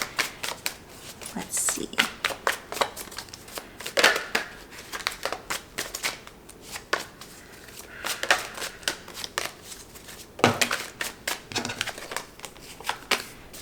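Tarot cards are shuffled and handled in quick, crisp riffles and flicks that continue throughout, close up, with a few brief spoken words over them.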